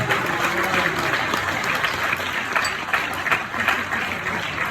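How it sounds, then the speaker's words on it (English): Wedding guests applaud the bridesmaids during a brother's best man speech at a reception, a steady, dense clapping that fills the room without a break for several seconds. "Could we please have a round of applause for all the bridesmaids?"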